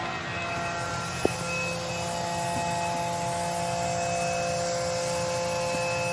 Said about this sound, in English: So now we will actually turn on the vacuum pump